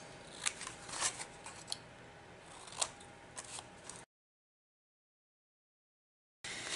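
Scissors snip off leftover paper pieces while a holiday paper-pack box is being trimmed, giving a few close, crisp cuts spread over about four seconds before silence.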